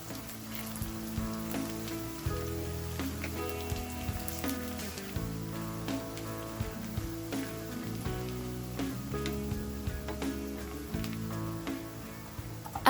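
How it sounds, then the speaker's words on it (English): Onions sauté in a pan over a medium flame, a steady close sizzle with patter like light rain and occasional clicks from stirring, continuing without speech. "saute the onions until they turn golden brown, stirring at regular intervals to avoid burning"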